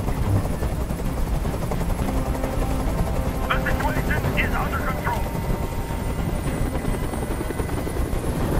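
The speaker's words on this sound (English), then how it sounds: "Tell that helicopter to get out of here!" A helicopter hovers close by during a hostage standoff in the video game Detroit: Become Human, its steady loud rotor rumble continuing throughout while someone shouts over it.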